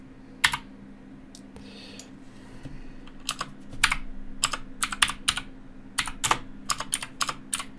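Keys clatter on a computer keyboard in short irregular bursts, crisp and close, separated by brief pauses with faint background hum and no talking.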